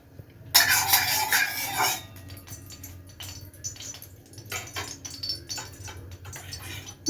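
A utensil stirs peas and carrots in white oil in a kadai, starting with a loud sizzling scrape and then settling into intermittent clinks and scraping strokes over a low background hum, with no talking.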